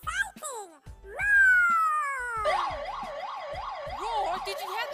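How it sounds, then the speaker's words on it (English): A siren wails with rising and falling tones, clear and fairly close, mixed with voices and broken by short knocks. The cheerful setting suggests a children's program. "That sounds like our emergency siren."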